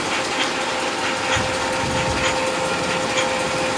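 A metalworking machine cuts a grade 40 steel blank for hexagon pieces, giving a steady, close mechanical whirr and grind with faint rhythmic ticking throughout and no talking.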